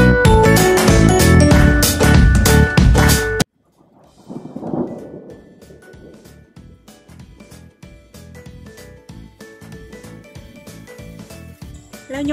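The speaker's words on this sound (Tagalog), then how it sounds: "Inabutan ako ng ulan habang gumagawa ng trellis." Rain falls steadily with a rumble of thunder, caught outdoors while building a trellis for winged beans; a loud burst opens, then a low rolling rumble and a patter of drops carry on.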